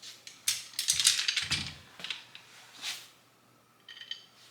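Hand ratchets from tool-truck brands, including a Snap-on flex head and an Icon flex head, clicking close by in quick irregular bursts of sharp ratcheting, with a few separate clicks near the end.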